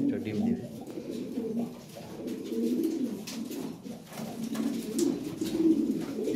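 Lahore Siraji pigeons, a flock of about fifty pairs, coo in a steady overlapping murmur of low throaty calls, close and continuous, while someone talks over them.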